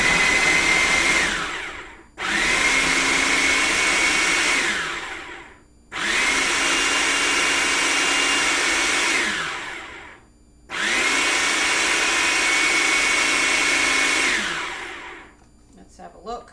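A food processor pulses butter and flour for an apple pie crust in three long, loud whirring bursts separated by short pauses, ending with a few small clicks.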